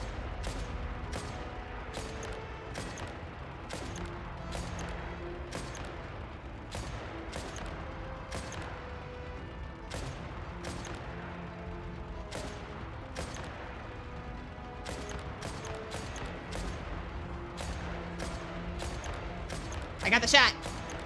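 Sniper gunshots in Genshin Impact crack out sharply and repeatedly at a steady pace against a constant battle backdrop, with speech heard between the shots.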